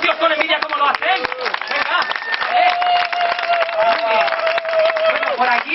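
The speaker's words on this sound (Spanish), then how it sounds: "Los tíos aplaudiremos así con cierta envidia" A film crew on set breaks into applause, dense clapping mixed with crowd chatter and voices talking throughout, fairly loud and close.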